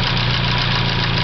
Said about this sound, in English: The engine, 1949 Crosby.